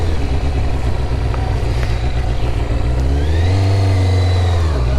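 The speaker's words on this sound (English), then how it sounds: "my new 2000 Kawasaki" A 2000 Kawasaki ZX6R motorcycle engine revving, a loud close mechanical drone that climbs in pitch and then falls back as the throttle is released, with no talking.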